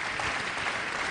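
Audience applause at a national awards event, a steady wash of many hands clapping, moderately faint and with no voice above it.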